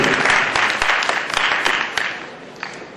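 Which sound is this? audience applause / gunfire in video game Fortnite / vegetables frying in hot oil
audience applause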